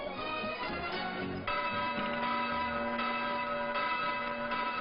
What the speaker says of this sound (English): You hear bells all over this island.